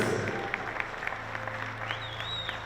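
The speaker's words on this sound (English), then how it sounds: "please give a warm round of applause and appreciation for your 2025 graduating basketball seniors" Crowd applause at a high school varsity basketball game honoring graduating seniors, a steady wash of clapping in a gym with a few sharper claps standing out and a faint whistle near the end.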